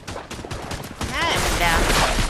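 Video game gunfire crackles as bursts of rapid shots, sparse at first and then a dense sustained volley, with voices talking over parts of it.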